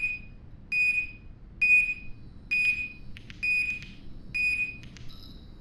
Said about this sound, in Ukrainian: Що воно пікає?